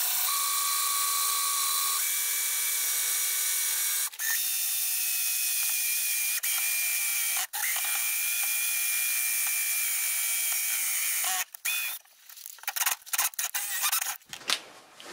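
An electric drill with a Bosch flat spade bit bores into wood for a Swedish log torch, a steady high whine with brief pauses, then choppy bursts near the end.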